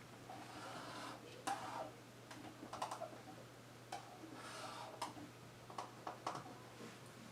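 Computer keyboard typing in a quiet room, irregular clusters of light key clicks with short pauses between bursts, close and soft over a steady low hum.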